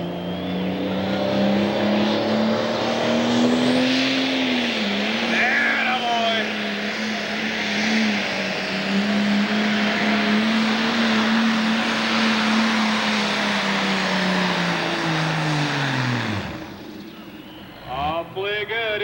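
A 10,000 lb pro pulling tractor roars loud and close at a tractor pull in Taylorville, Illinois, holding a steady heavy engine drone for most of the run before the pitch drops and the noise cuts away near the end.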